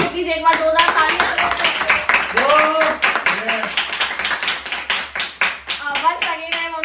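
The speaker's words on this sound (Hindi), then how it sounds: "हमारे दोनों विनर्स को प्लीज एक बार जोरदार तालियां।" An audience claps loudly for the winners of a home-edition Big Boss style show, dense irregular hand claps throughout, with a voice talking over the applause.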